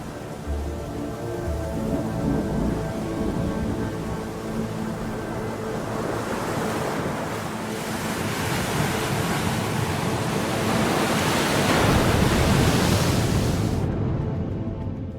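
Storm-driven waves and wind on the Baltic Sea roar as a steady, broad rush that swells louder toward the end, with no voices.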